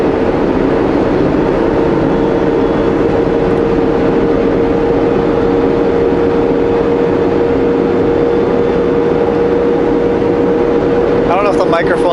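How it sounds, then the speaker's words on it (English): Heavily loaded truck climbing a Kootenay mountain road, its engine howling in a steady, loud droning whine with a constant pitched tone throughout, heard from inside the cab. "I don't know if the microphone's picking up the howling of my engine"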